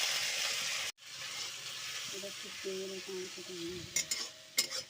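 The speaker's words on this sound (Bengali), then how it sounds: "রসুন বাটাটা দিয়ে কিন্তু ভালো করে ভাজতে হবে, নাহলে কিন্তু কাঁচা রসুনের গন্ধ ছাড়বে।" Garlic paste fries in a pan for an egg curry with a steady, close hiss that drops out briefly at the start, then returns. A few utensil taps and clatters come near the end.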